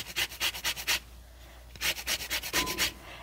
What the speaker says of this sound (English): I have this nice little zester here. And I want the zest of 1 full lemon.